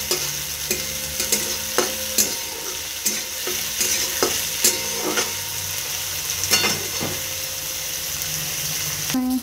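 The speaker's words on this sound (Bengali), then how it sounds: "এটাকে ভালোভাবে ভেজে নেব।" Potatoes and soybean chunks frying in a pan, a continuous close sizzle broken by regular spatula stirs and knocks against the pan, with no voices.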